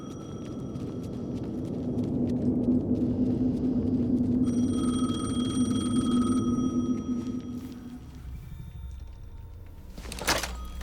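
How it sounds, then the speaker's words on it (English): A telephone rings in the video game Alan Wake 2, its tone set against a low droning rumble, then fades out before a sharp thud near the end. "The phone again."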